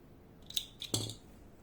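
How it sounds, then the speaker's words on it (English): Scissors snip crochet yarn in a few quick, crisp metallic clicks close to the microphone, in an otherwise quiet room. "and cutting the rope."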